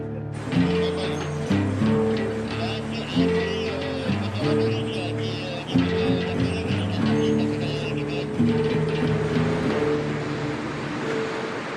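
Heavy automated machinery runs continuously in a gigantic modern machine room, a dense, loud mechanical drone with repeating rhythmic clanks and ratcheting gear noise cycling every second or so.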